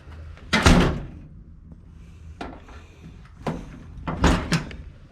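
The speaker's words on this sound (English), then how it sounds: "Let's see if this door closes." A car door on a vehicle under floor and rocker panel repair is swung and shut, with two loud thumping closes separated by softer knocks and rattles of sheet metal, near and alone.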